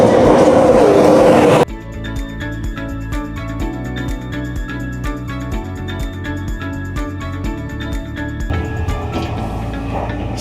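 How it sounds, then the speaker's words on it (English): A train on the line to Disneyland Paris runs steadily with rhythmic wheel clatter and rumble, heard from inside a busy carriage after a brief loud burst of noise at the start. "So here's the train."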